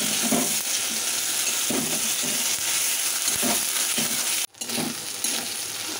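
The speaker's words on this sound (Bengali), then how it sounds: "আদা রসুনটা ভাজা ভাজা হয়ে গেছে" Ginger garlic paste fries in hot oil after browned onions in a home kitchen pan, a steady loud sizzle with periodic scraping stirs and one brief dropout near the end, no talk.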